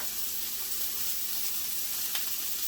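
Diced jalapenos and six ounces of meat sizzle steadily in a pan, a dense even frying hiss with one faint clink partway through.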